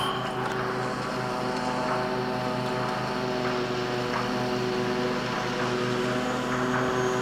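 A Freewing Avanti 80mm electric ducted-fan RC jet flies over a model airfield runway at full throttle, giving off a loud, continuous high-pitched whine and roar with a steady tonal hum and no pauses.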